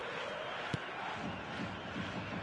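Steady, dense roar of a stadium crowd in the eFootball video game, building before kickoff, with one short sharp accent partway through and no voices standing out.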